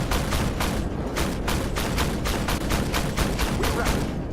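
Rapid bursts of 20mm high explosive autocannon fire hit a BMP in the Armoured Warfare tank game, a fast, steady rhythm of loud, evenly spaced bangs that continues without pause over a dense rumbling background.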